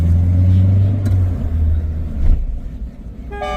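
A 1965 Citroën DS 19 Pallas accelerates on a country road with a close, loud engine rumble that swells and then eases, ending with a brief tonal toot.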